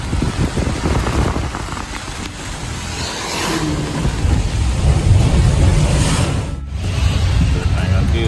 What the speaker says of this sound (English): It's raining real bad.